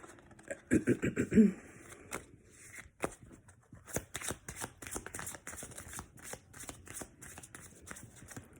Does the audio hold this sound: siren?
no